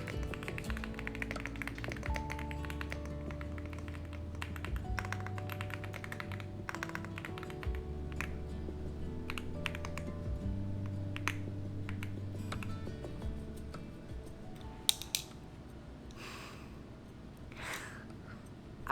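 Taps of typing on a computer keyboard while a book draft is written in a word processor, steady light key clicks running under background music, with a few sharper louder taps near the end.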